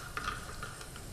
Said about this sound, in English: You can even hear it actually, that it's sizzling inside.